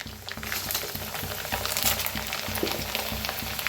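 Corn chivda frying in hot oil, a steady dense sizzle and bubbling that holds at an even level throughout, close and alone with no talk.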